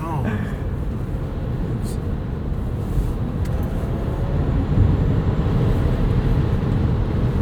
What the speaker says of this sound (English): All you hear is just nothing. Wind noise.